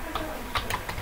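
Fingers tap a computer keyboard in short quick bursts of clicks, close and fairly crisp, with brief pauses between keystrokes.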